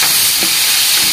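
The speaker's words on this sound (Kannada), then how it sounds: "ಸ್ವಲ್ಪ ಉಪ್ಪು ಹಾಕೊಂಡು ಫ್ರೈ ಮಾಡ್ಕೊಂಬಂದ್ರಿ" Onion frying with salt in hot oil for egg biryani, a steady close sizzle and hiss with a faint stir of the pan.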